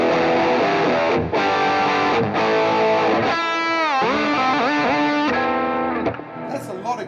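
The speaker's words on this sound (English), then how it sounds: "I've got this much gain and distortion." Heavily distorted electric guitar through a Fractal Audio Axe-Fx II, thick gain, sustained chords and bending notes, saturated and loud, fading out at the end.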